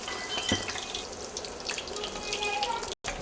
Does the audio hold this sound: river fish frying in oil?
yes